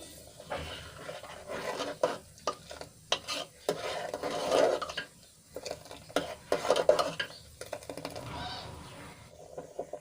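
Thick kheer with slivered almonds bubbles in a pot while a spoon repeatedly scrapes and stirs it, giving close, irregular clinks and scrapes over a soft simmering background.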